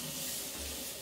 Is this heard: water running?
yes